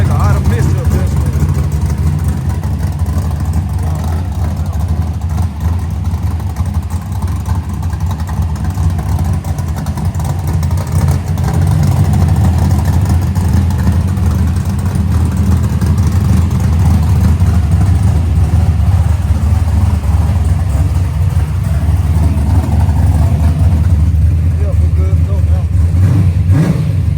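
A car engine with a freshly tuned carburetor idles with a low, rumbling, continuous drone, close and loud. The engine swells into occasional revs, and it keeps running without a break.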